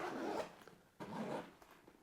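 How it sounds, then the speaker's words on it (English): A camera backpack's side pocket is unzipped in two close pulls, a raspy zipper rip around a short break, loud and near with no talking. "Let me just unzip this."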